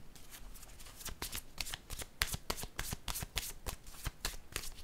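Oracle cards being shuffled by hand, a quick run of crisp papery riffles and flicks that repeat steadily up close with no talking.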